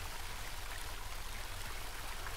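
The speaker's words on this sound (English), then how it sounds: "I hear water." Steady flowing river water in a horror video game, a continuous even rush and trickle of a cold stream heard alone at moderate level without pauses.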